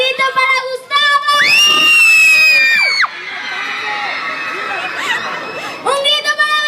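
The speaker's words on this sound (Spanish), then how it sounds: "Un grito para Gustavo" An audience of fans screams and cheers for a performer in a loud, sustained burst, with high shrieks and overlapping voices swelling and fading over several seconds.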